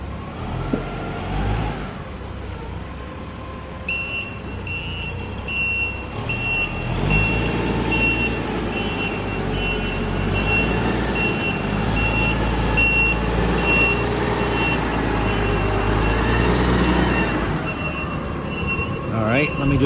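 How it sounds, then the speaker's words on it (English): Caterpillar DP50N forklift reversing with its backup alarm beeping in a steady repeating pattern over a continuous diesel engine drone, close by and loud. "Backward, backup alarm."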